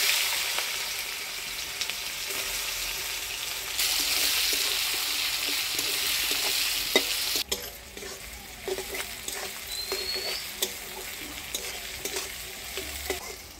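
Chopped onion frying in hot oil with dried red chilli, whole cumin, bay leaf and whole garam masala, a steady close sizzle with intermittent stirring scrapes and utensil clinks throughout.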